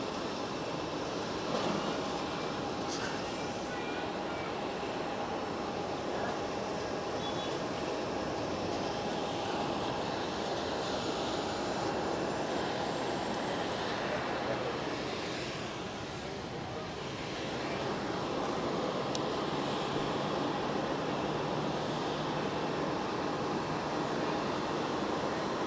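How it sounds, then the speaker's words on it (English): EasyJet airliner at Geneva Airport with a steady, broad jet engine roar held close and loud throughout, dipping briefly before swelling again, with people talking over it. "So we've got an EasyJet just to start its mission."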